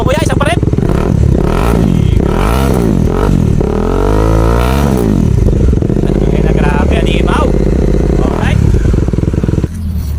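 Bajaj Dominar 400 UG version 2 motorcycle fitted with a Yoshimura R77 carbon slip-on exhaust with the silencer removed, revving loudly and continuously up and down close by, deep throaty blasts rising and falling throughout.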